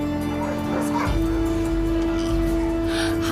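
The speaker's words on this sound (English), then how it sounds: "there were several puppies there" Puppies at an animal shelter yelp and whimper in a steady, close run of high-pitched yips and whines, with a constant low hum underneath.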